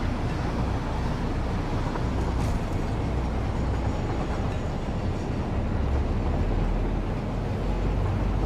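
Train in the factory-building video game Satisfactory rolling along its tracks, a steady dense rumble with faint clickety-clack, continuous and loud throughout with no talking.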